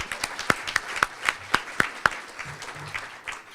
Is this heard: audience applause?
yes